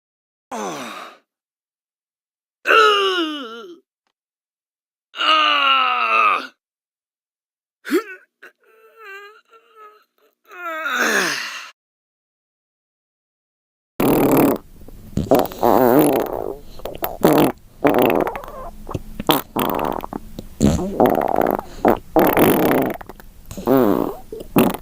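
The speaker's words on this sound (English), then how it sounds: "I am going to fart from a sound effect" Cartoonish fart sound effects come as a few short, separate bursts with silent gaps between them, then give way to a denser, noisier run of rapid rumbling blasts that fills the second half.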